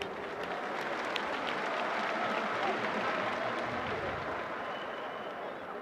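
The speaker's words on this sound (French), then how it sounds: "Ils méritent certainement nos applaudissements." Sustained applause from a large crowd at a presidential speech in Senegal, a dense, steady wash of clapping that holds evenly for about six seconds.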